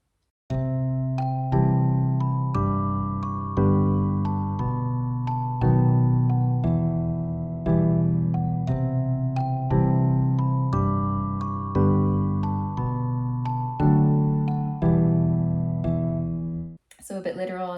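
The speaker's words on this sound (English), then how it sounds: "And then we also have a little sort of glockenspiel, or actually it's a celesta" Celesta playing a light, bell-like melody of evenly spaced plucked notes over sustained low chords, steady and moderately loud throughout, ending in a brief burst of noise.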